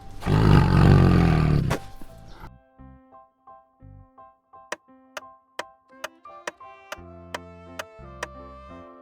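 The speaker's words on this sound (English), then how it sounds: "tiger," A tiger roars loudly and close for about two seconds, a single sustained growling call, followed by quiet music with regular ticking beats.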